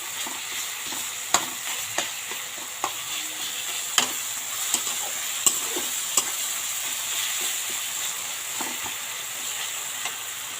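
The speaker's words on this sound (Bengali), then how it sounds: "এবার আমি টমেটোগুলোকে একটু চেপে চেপে গলিয়ে দেবো।" Tomatoes frying in a pan for a spicy sea fish curry, a steady sizzle under sharp, irregular clicks as a spatula presses and mashes them.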